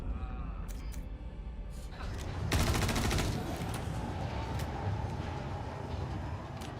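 Gunfire from a video game gun: a rapid, dense burst of automatic shots lasting under a second, heard moderately close over a steady background hum, followed by lingering rumble.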